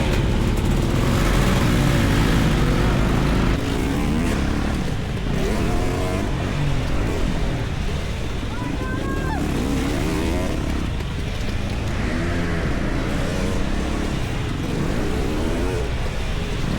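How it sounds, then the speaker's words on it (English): A two-stroke dirt bike engine revs inside an airplane hangar, a loud, sustained, raspy drone that rises and falls in pitch and echoes off the hard walls. "Smoking out the building with his two-stroke."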